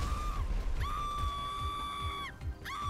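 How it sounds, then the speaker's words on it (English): High, sustained screams echo from upstairs in a GTA 5 haunted house, several long wailing cries separated by short gaps, heard at moderate distance over low rumbling game sounds. "Why am I hearing people screaming upstairs?"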